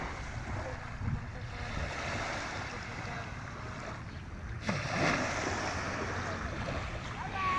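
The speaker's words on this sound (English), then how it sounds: "If you need the sound of the waves this morning, let me share the waves with you." Ocean waves on a morning shore: a broad, steady wash of surf with a swell that builds halfway through, heard at moderate distance with some wind.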